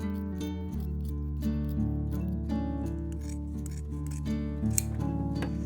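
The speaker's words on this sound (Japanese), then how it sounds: "ハサミでこの縫った幅よりも細めに切ります。" Scissors snip through knitted sweater fabric while it is being remade, with a run of close, soft cutting strokes over steady background music.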